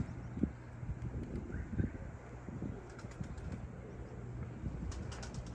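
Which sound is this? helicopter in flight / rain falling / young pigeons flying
young pigeons flying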